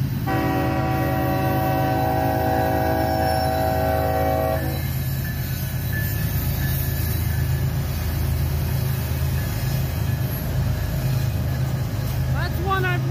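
A CSX spirit unit locomotive runs as light power with no cars, passing close with a loud diesel rumble; its horn sounds in the opening seconds, then a long steady roll of wheels and engine follows.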